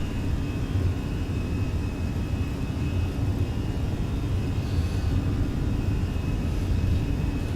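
An Airbus A320 in Microsoft Flight Simulator rolls down the runway for takeoff at set thrust, a steady, loud engine roar with broadband rumble holding constant throughout, no talk over it.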